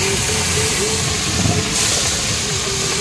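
Hilsa and other fish dropped into hot oil in a kadai at Digha give off a loud, steady frying hiss that fills the whole stretch, with faint voices underneath.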